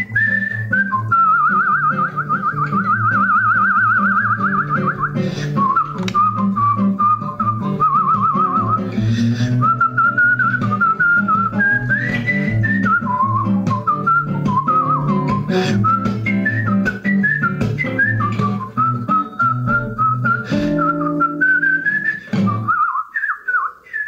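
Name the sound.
whistling imitating a blackbird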